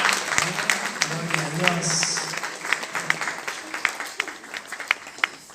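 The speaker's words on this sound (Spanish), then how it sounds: "Les damos un aplauso." A church congregation claps through a Sunday service, scattered and uneven hand claps building to sharper individual strikes near the end, while a voice speaks over the first half.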